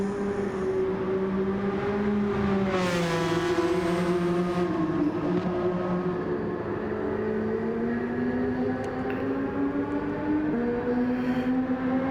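Race car engines in a racing video game drone steadily with tonal whine, pitch shifting as cars accelerate and slow through curves, a continuous close engine note with no talk.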